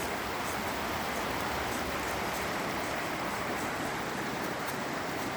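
A river flowing on Mount Hood, a dense, constant hiss and roar of rushing water heard up close, steady throughout with no talk.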